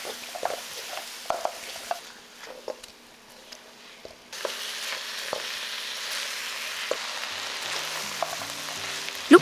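Pork ribs sizzle in a pan with caramel sauce as they are stirred, quiet and sparse at first, then a steady, fuller frying hiss with scattered stirring scrapes, close by and with no voices.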